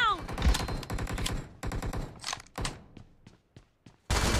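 Gunfire in the mobile battle-royale game BGMI (PUBG Mobile), bursts of rapid shots and a few single cracks mixed with game effects, with a player's voice partly over it.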